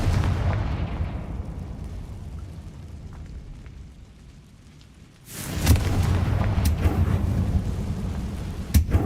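A Confringo blasting spell goes off in the video game Hogwarts Legacy: a rumbling roar fades away, then a loud sudden blast erupts and keeps crackling with sharp pops to the end.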